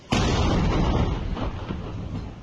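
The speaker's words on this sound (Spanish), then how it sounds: "el cilindro fue desactivado de forma controlada mediante una contracarga. La explosión retumbó a varios kilómetros a la redonda." A single powerful blast from a controlled counter-charge detonation of an explosive cylinder, a sharp onset followed by a long rumbling roar that slowly fades over a couple of seconds, loud and alone.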